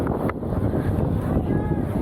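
Strong wind over open rice fields buffets the microphone of a cyclist riding in Pangasinan, Philippines, with a constant low rumble and roar, steady and loud throughout, with no clear voices.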